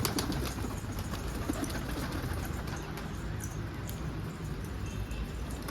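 Pigeons on a rooftop coo softly amid a constant low outdoor rumble, their calls faint and intermittent over the background with no talking.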